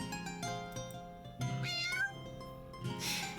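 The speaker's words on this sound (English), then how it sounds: "You hear a loud meow, some footsteps, and then Silas opens the door." A cat meows loudly over a steady bed of layered game music, with a couple of brief rising tones near the middle.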